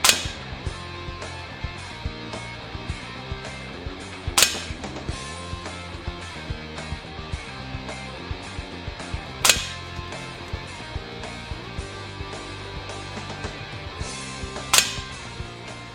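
An air rifle fired at a target with RWS Super Point pellets, four sharp cracks spaced several seconds apart over a busy backing of music, no talk.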